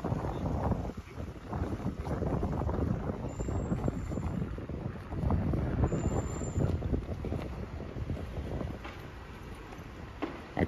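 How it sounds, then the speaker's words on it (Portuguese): Steady wind buffeting the microphone while cycling along Avenida Atlântica in Balneário Camboriú, a continuous rough roar with gusty surges and no speech. "Tá tendo vento por causa desses corredores, eu acho."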